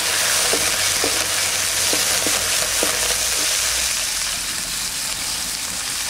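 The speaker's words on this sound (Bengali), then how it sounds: "কাঁচা লঙ্কা পাকা লঙ্কা একসঙ্গে। এবার দিয়ে দেবো কড়াইতে। তেল গরম হয়ে গেছে" Green and red chillies hit hot oil in a wok with a loud, dense sizzle and crackle that holds steady throughout, dotted with a few light stirring taps.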